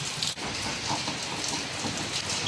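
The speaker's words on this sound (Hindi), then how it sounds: "बारिश इतनी हो रही है ना कि आप निकल ही नहीं सकते हो" Heavy rain pours outside, a continuous dense hiss of drops on surfaces that stays steady and fairly loud throughout, with no voices.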